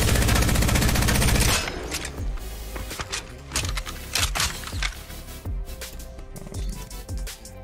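Devotion light machine gun in Apex Legends fired with no attachments: a dense, loud stream of rapid full-auto shots at the start, then a series of shorter, uneven bursts continuing to the end.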